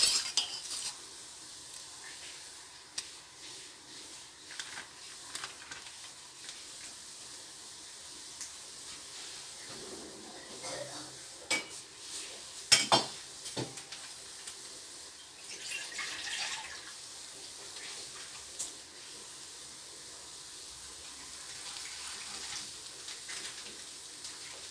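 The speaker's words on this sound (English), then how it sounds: "You need to mix with the spoon like this for a while so that it will get mixed up well" A spoon scrapes and clinks steadily against a metal pan of boiling ginger clove tea, with soft stirring sounds and faint bubbling underneath.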